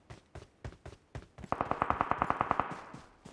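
Gunfire in the PUBG Mobile video game comes from behind as a few spaced shots, then a rapid burst of evenly paced rounds with a slight echo, at moderate volume.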